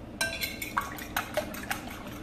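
Four eggs being beaten in a bowl, a utensil clinking against the side in a steady rhythm of about eight light taps over a soft wet background, close and fairly quiet, with no talking.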